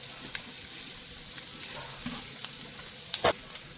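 Chana dal and cumin seeds fry in hot oil, giving a continuous close sizzle with light crackles and a sharp clatter near the end as the tempering is stirred.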